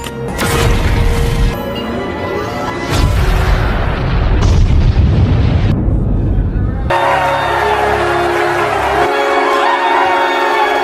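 Loud, rumbling bomb explosions and crashing blasts roll one after another, dense and close, with heavy low-end thunder and debris-like clatter throughout.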